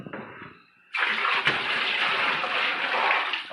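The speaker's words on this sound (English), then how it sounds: "So you watch me pour it in." Bacteria-treated water pours into a bait live well after a brief quiet start, then runs as a loud, steady close gush that lasts to the end.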